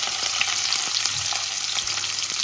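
Onions sizzle steadily in a hot pan with bay leaves, close up, a constant crackling hiss with a few stirring scrapes.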